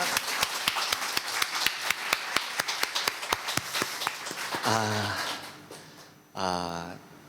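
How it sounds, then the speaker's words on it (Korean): A church congregation claps in a quick, even unison beat for several seconds, then the clapping stops and a voice begins speaking, with a second burst of voice near the end. "우리 하나님께 먼저 영광의 박수를 한번 올려드리겠습니다"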